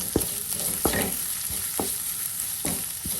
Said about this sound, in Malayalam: ചെറുതായിട്ടൊന്ന് നല്ലപോലെ ഒന്ന് വഴറ്റിയെടുത്താൽ മാത്രം മതി